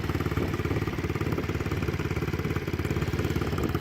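A small 50cc Barton Sprint motorcycle engine idles steadily nearby, a fast even putter with a buzzy exhaust note running throughout.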